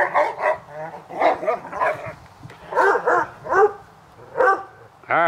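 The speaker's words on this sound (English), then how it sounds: "Get those silly dogs." Two dogs bark and yip in bursts while playing, sharp short barks and whiny yelps coming every second or so, close by, with a low growly undertone between them.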